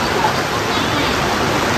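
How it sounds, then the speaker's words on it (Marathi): Heavy rain pours down during a weekend trip near the beach at Alibaug, a loud, dense, unbroken hiss of water close by. "बघू शकता एवढा जोरात पाऊस आहे."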